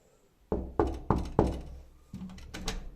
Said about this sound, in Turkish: Kapıyı çalıyoruz.